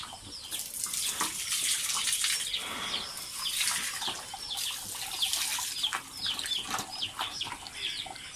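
Water runs steadily from a tap at a pig pen during wet feeding, a continuous splashing hiss with small fluttering variations throughout, close and moderately loud.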